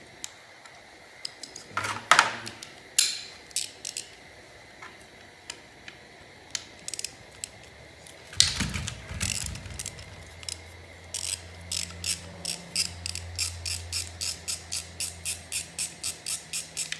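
A ratchet wrench clicks away at a bracket on a Honda D16Z6 engine, close and crisp, with short bursts of clicking, a couple of clanks and scrapes, then a long steady run of rhythmic ratcheting clicks.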